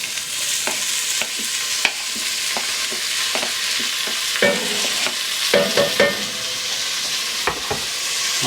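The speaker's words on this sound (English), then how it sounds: "we're going to render this bacon down" Bacon frying in olive oil in a gumbo chili pot, a bright, steady sizzle with scattered sharp pops and crackles and occasional stirring scrapes, close and alone without speech.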